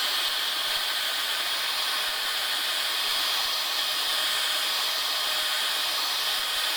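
A heat gun blows hot air for craft embossing, a loud, continuous high-pitched whooshing hiss that stays steady from start to finish.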